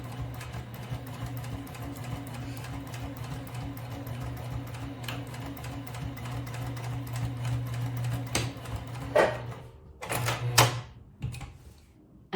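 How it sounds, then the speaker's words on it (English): A sewing machine stitches around a round fabric bag, its motor whirring in a steady rhythmic hum for several seconds before stopping, followed by a few sharp clacks and brief bursts of handling noise. "Now I'm going to start to sew here in this area."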